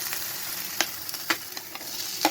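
Crushed ginger, garlic and chili fry with browned onions in a hot pan, giving a continuous sizzle punctuated by several sharp spatula taps and stirs, with no voices.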